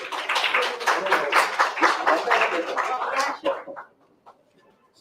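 Audience applause at a college event honoring mentors, dense clapping ringing out for over three seconds, then fading to a few scattered claps and near silence.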